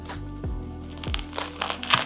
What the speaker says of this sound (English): Let's cut into this grilled cheese sandwich.